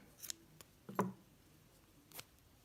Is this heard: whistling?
no